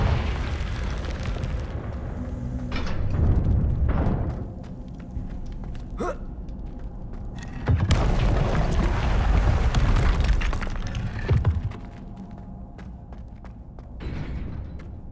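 Fiery blasts from the Confringo explosion spell in Hogwarts Legacy erupt as several deep booms and crackling bursts, loud and close, with rumbling swells between sharper pops over a long, continuous stretch.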